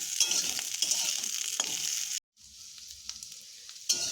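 Cut potatoes and slit green chillies frying in oil in a pan, a continuous close hiss and crackle with a few soft stirring scrapes, briefly cut off midway before the sizzle resumes.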